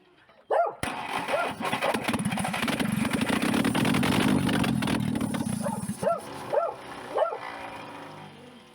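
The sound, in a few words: engine being choked and started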